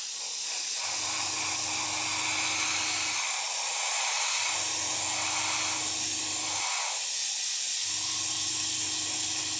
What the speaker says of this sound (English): It certainly does seem to spray better at 25 when they say 20 to 40